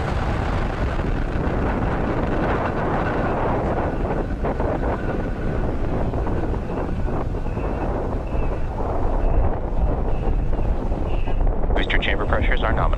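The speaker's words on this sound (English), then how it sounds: "engine full power, and liftoff of USSF 67" A SpaceX Falcon Heavy rocket lifting off on the USSF-67 mission, a loud continuous broadband roar of its engines dominating throughout, buffeted by wind noise on the microphone.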